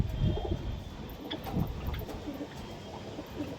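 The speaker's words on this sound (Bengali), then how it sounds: "একটা কালপেটিয়া পায়রা মাদা, দেশি হাই ফ্লায়ার" A Deshi high flyer pigeon, a yellow-eyed Kalpetia female among birds at a pigeon sale, gives soft, low rolling coos. Other pigeons murmur faintly in the background and no one speaks.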